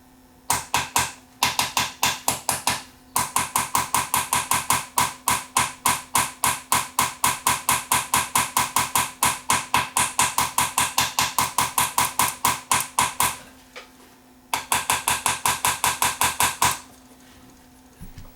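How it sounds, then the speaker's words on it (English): Light, steady taps seat a replacement chip's pins into the holes of a circuit board inside a Philips 880 CD player, a long even run of small knocks broken by a couple of brief pauses over a faint electrical hum. "I'm just lightly tapping it just to lower the pins down into the actual holes on the board"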